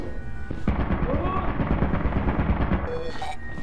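A turret in the Lethal Company video game fires a sustained rapid burst of loud gunfire, dense rattling shots following a sharp onset, with a brief voice and faint tonal sounds over the end.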